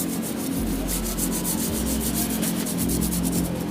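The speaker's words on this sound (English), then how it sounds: "now all we need to do is use this brush and just start scrubbing." A brush scrubs rust off a motorcycle with a fast, continuous rhythm of harsh back-and-forth strokes, close and loud, under a low steady hum.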